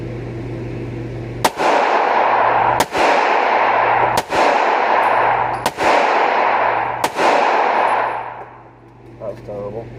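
Five loud, sharp gunshots fired at an outdoor shooting range, spaced roughly a second and a half apart, each ringing out with a long echoing decay over a low steady hum.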